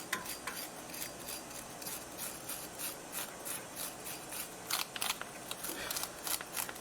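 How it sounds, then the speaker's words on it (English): A brush scrubbing the piston area of a front brake caliper on a 2015 Mini One 1.2 automatic: close, rhythmic dry scratching strokes repeating in quick bursts, a little louder toward the end. "Just brushing the area of the piston here a little bit."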